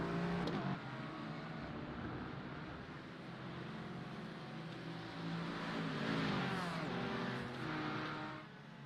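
A BMW race car engine in a sim racing event at Snetterton drones at high revs, rising and falling through gear changes with other cars close behind, steady and loud from start to end.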